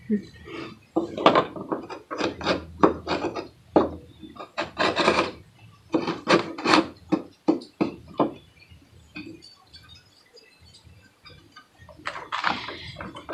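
A honey bee hive frame being scraped during hive maintenance, a series of short rasping strokes in irregular bursts, close and fairly loud, with a pause before a final scrape.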